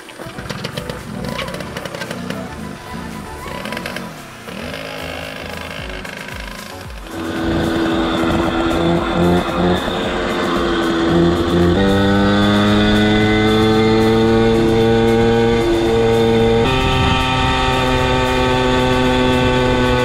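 Puch moped engine revving up toward top speed while riding, a buzzing two-stroke whine that climbs steadily in pitch and loudness, close and continuous with wind noise.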